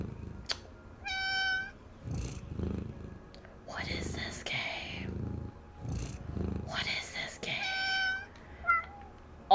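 In the video game Calico, a cartoon cat gives two clear, high meows with soft purring, while a player talks and murmurs between them.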